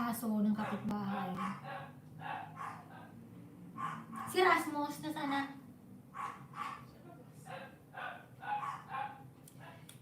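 Neighbours' dogs bark in short repeated bursts from nearby, a steady run of yaps and woofs throughout, with a voice speaking briefly over them.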